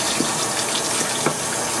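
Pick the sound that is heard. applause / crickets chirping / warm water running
warm water running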